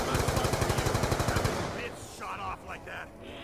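Automatic weapon fire from a gun in Black Ops 2 Zombies on the Buried map: a loud, rapid burst of evenly spaced shots that stops partway through, followed by quieter game effects and a few short sounds.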